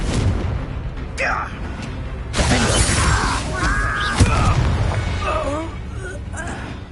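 Spell blasts such as Bombarda and Confringo go off in the Hogwarts Legacy game, booming and shattering bursts that crash in among whooshing magic effects and a voice calling out.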